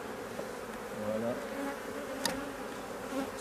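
Honey bees at a hive during a spring frame inspection, giving a steady close buzzing drone throughout with one brief sharp click partway through.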